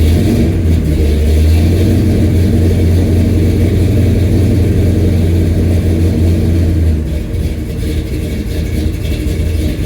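A car engine runs loud and close with a steady low hum, the pitch dropping partway through as the revs change, with no voices.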